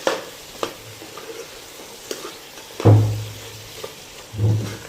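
Chili powder fries with country chicken curry in a pan, a low background sizzle punctuated by a few sharp clicks and two louder bursts of stirring and scraping, close and without talk.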